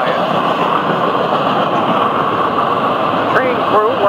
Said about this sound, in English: Rumbling toward Micco for the meet with FEC-101.